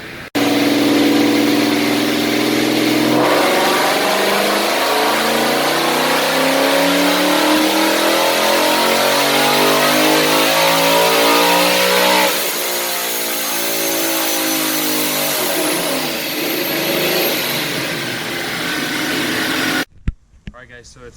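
A Procharger-supercharged, nitrous-equipped widebody Ford Mustang revs hard on a dyno, its loud engine note climbing steadily through a long pull, dipping briefly, then building again before cutting off abruptly near the end.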